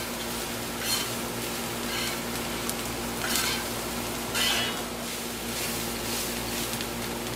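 Bacon and fried rice sizzle steadily in a pan while a spoon stirs through them, with a few louder scraping strokes rising over the constant close frying hiss.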